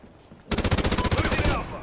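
Automatic rifle fire from Call of Duty Ghosts, a rapid burst of about twenty close, loud shots in steady rhythm lasting around a second, after a quiet moment.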